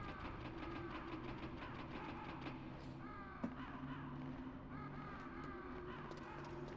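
Crows caw repeatedly in Metal Gear Solid, harsh calls scattered over a steady mechanical rumble like a passing train, with one sharp click midway.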